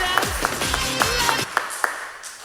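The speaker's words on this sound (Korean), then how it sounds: "하나님께 영광의 박수 드리겠습니다." Church congregation at a Sunday morning worship service clapping in a steady, even rhythm, roughly three to four claps per second, over sustained tonal music that trails off near the end.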